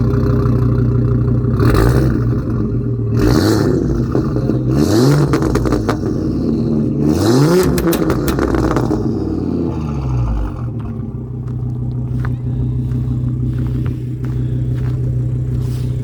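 An Audi RS3 tuned to 500 hp, already warm, starts up close and loud, then revs in several sharp rising blips before settling into a deep, steady idle rumble.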